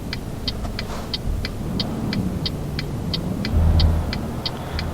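Truck engine in the Euro Truck Simulator 2 video game on a British road: a steady low rumble that swells briefly near the end, with a regular ticking like a turn signal repeating throughout.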